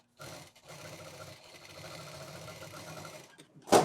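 A sewing machine stitches fabric for quilting at home, running in a steady close whirring burst for about three seconds with a couple of short pauses, ending in a louder clack.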